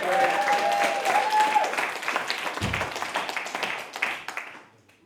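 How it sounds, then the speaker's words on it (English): Audience applause at a community hall show, a loud burst of clapping with a whoop that stays strong for several seconds before thinning out to scattered claps and fading to quiet. "Give him a big round of applause."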